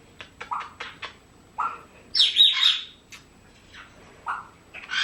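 A pet bird named Archie, groomed and shopping at a bird store, chirps in a string of short, bright calls and one louder squawky burst, near and clear with no talk.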